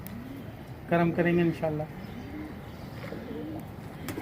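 Pigeons, a breeding pair from different breeds including an Iraqi-bloodline bird, cooing softly in repeated low rolling calls, with someone speaking briefly over them.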